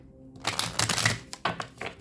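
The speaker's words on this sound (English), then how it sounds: "I'm going to shuffle these for Gemini" Tarot cards being shuffled by hand during a love reading, a run of quick papery riffles and flutters, close and fairly loud, with brief pauses between bursts and no talk.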